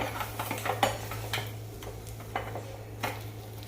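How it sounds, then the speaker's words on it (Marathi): A metal spatula taps and scrapes on a frying pan while egg kebabs are turned, a handful of light irregular clinks over a low steady hum, close by and with no talking. "मैत्रिणीनं आपला अंडा कबाब आपण जरा पलटी मारून बघू"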